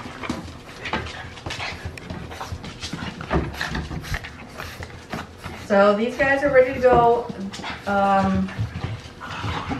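Young French Bulldog puppies pant and let out soft whimpers and whines indoors, with a nearby person talking over them throughout.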